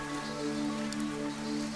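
A steady rain downpour patters in the video game Fantasian: Neo Dimension, soft and continuous, with a sustained musical tone beneath it.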